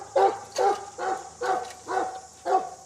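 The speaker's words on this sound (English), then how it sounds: "So basically the bark is just giving him a lot more power" A sheepdog barks in six evenly spaced, loud close barks while herding a small flock of sheep in a paddock near a lodge, with a faint low hum beneath.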